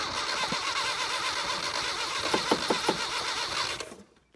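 A 1978 Datsun 1500 GN620 ute with a choke problem cranks over for about four seconds, a steady starter whir with a few rhythmic pulses near the end before it cuts off.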